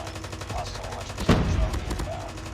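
Rapid gunfire bursts in a first-person shooter video game, a steady rattle of close shots with one louder blast midway, continuous through the short clip.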